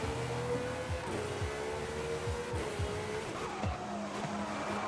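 A racing car in Forza Horizon 5 braking hard into a corner, tires squealing and skidding under a steady engine roar, with repeated downshift blips as the car slows and turns.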